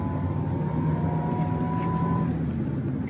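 2002 Nissan Pathfinder engine pulling under steady acceleration, a loud, continuous deep drone with a faint rising harmonic whine and no pauses.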